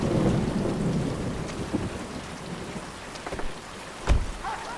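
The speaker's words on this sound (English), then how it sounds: "Well, it's raining." Steady rain falls in a TV drama episode, hissing on surfaces throughout, with a sudden close thunder crack and rumble near the end.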